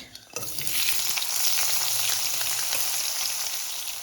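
Chopped onion dropped into hot oil on a high gas flame after a tempering of dry red chilli, radhuni and nigella seeds, bursting into a loud, steady close sizzle that carries on without pause or talk.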